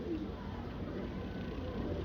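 Pigeons coo softly in a small breeder setup of paired birds, low murmuring calls over a steady indoor hum, faint and continuous with no clear voices.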